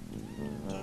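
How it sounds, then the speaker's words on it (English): A single drawn-out meow from a pet cat indoors, clear and close, heard over low background sound. "He's meowing."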